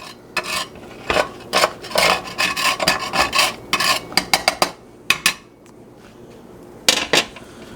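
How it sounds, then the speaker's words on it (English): A metal utensil scrapes residue out of a cheap Asian skillet at close range: quick bursts of harsh metallic scraping in uneven strokes, several clustered together, then a pause before two final scrapes. "We're going to clean this thing out"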